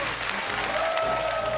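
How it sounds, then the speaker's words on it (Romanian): Steady audience applause for a comedy contestant on a Romanian stand-up show, dense continuous clapping from a crowd at even loudness throughout. "Domnilor și domnilor, aplauze pentru Varză"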